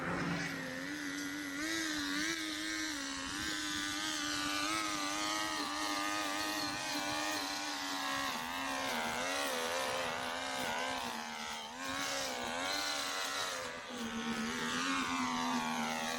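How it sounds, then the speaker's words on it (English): String trimmer cutting grass around the perimeter of a farmhouse yard on partly sloped ground: a continuous high, buzzing motor whine with wavering pitch, steady and fairly close throughout. "Trimming around the perimeter of the house now."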